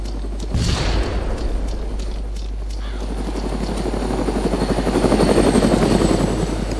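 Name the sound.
helicopter in the video game DayZ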